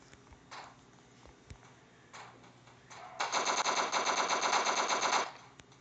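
Automatic weapon fire in the blocky shooter game Block Strike: a few scattered single shots, then a sustained rapid burst of around two seconds, crisp and close, with no voices.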